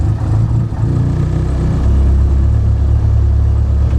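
A Ford Focus ST engine runs rough at a cold idle after acting up at a track, a steady loud low rumble with uneven, wavering pulses and slight surges, close and continuous with no talking.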